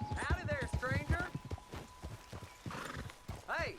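A horse in Red Dead Redemption 2 whinnies in rising and falling bursts over steady clip-clopping hooves, with people talking throughout and another neigh near the end.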